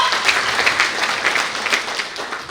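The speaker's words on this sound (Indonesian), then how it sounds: "Tepuk tangan saudaraku." A church congregation at a worship service breaks into dense, sustained applause, a steady wash of many hands clapping throughout with no voice standing out.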